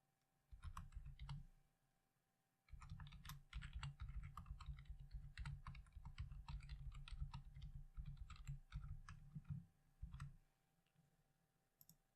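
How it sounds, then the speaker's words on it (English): Typing an email address and password on a computer keyboard, a short burst of quick key clicks, a pause, then a long steady run of rapid close-up keystrokes ending in a few final taps. "now I'll type in my email address and that password that I just reset."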